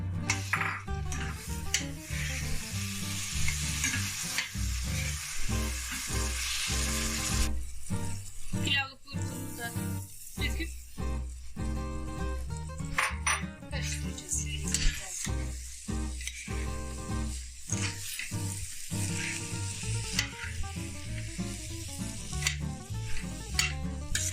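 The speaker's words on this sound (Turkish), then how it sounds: "Domatesini de suyun çekene kadar şöyle biraz kavuracağım onları." Tomatoes fry in a pan as they cook down for a vegetable bulgur pilaf, giving a steady, close sizzle. A utensil stirs and scrapes against the pan in repeated bursts.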